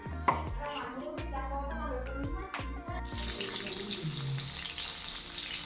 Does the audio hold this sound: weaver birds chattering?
no